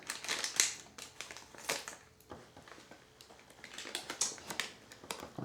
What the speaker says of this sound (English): I'll just slip my scissors underneath